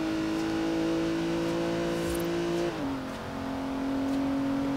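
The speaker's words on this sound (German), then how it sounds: "Das muss, glaube ich, ein V12 Biturbo sein." A car in the racing game Forza Horizon 3, said to have a V12 biturbo engine, holds a loud, steady drone, then its pitch drops briefly and settles at a new level. No one talks.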